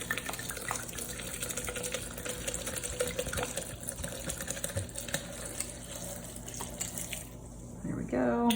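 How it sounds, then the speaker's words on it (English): Pinot Grigio white wine pours steadily into a pitcher of baked apple sangria. The pour makes a continuous soft liquid gurgle close by, and it ends with a brief clink near the close. "I got a Pinot Grigio, so I'm just gonna pour it in here."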